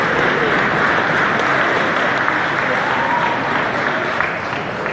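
Audience cheering and sustained applause fill a large hall at the Politicon 2017 political convention, a dense, loud wash of clapping and crowd noise that holds steady for the whole stretch.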